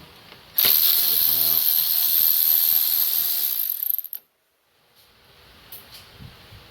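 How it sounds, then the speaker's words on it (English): A hand ratchet clicks rapidly and loudly up close while loosening an 8mm bolt on a 2018 Kawasaki Ninja 400 during an ECU install, a dense run of pawl clicks lasting about three seconds before stopping abruptly, then near silence. "we can get our ratchet or a wrench in there, and you can kind of take it out"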